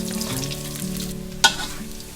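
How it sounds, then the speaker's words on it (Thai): Pork belly frying in oil in a pan until crisp: a steady, close, bubbling sizzle with one sharp clatter of a utensil against the pan partway through. "เดี๋ยวเราจะทอดต่ออีกสักหน่อยนึงค่ะ"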